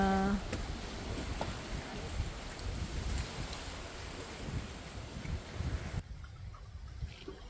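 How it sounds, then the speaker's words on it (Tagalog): Steady rain patters in a broad hiss with some wind at a resort in Jagna, Bohol, Philippines, continuous and moderately distant, before the sound drops away near the end. "Umuulan lang siya guys."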